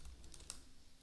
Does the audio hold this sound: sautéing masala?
no